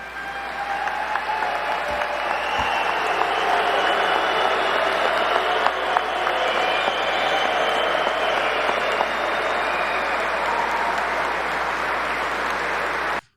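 A crowd at a political event booing JD Vance off stage: a dense, unbroken roar of voices, loud and steady for about thirteen seconds with no clear speech over it.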